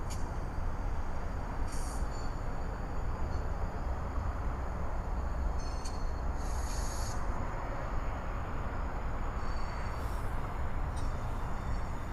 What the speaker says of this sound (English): There is a train a-coming past TVRM.